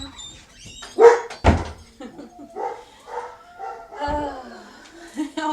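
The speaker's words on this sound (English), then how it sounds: "Now I'm going to have the husky dog serenade." A husky's vocal bark-howl carries a drawn-out, singing quality, with a couple of sharp thumps mixed in; faint voices murmur in the background.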